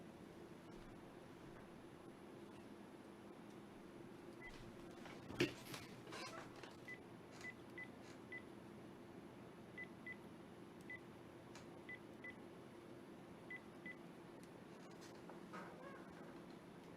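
Telephone dialing tones beep faintly, a short burst of keypad tones followed by evenly spaced single beeps over a low steady hum.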